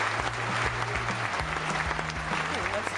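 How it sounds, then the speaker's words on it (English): Standing applause and cheering play from a tablet speaker, a dense continuous clatter of clapping with a voice talking over it throughout. "standing applause"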